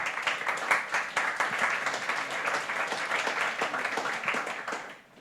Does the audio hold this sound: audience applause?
yes